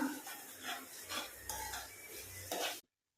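Beaten eggs are gently stirred into prawns in a pan. Soft, quiet scraping strokes of a spatula against the pan come in an unhurried rhythm, with a faint sizzle, and cut off abruptly near the end.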